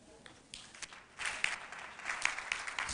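Scattered, faint clapping from a conference audience, starting with a few sparse claps and building into a thin, uneven patter of hands.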